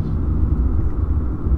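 Heavy trucks on a road in Paulínia, São Paulo, passing as a steady, loud low rumble of engines and tires close by, with no voices.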